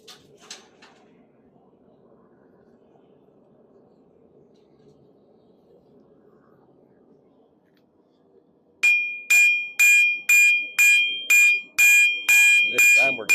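Hammer blows on hot salvaged iron to set forge welds for a new knife, a sharp ringing series of about ten evenly spaced strikes after a quiet stretch with faint background noise.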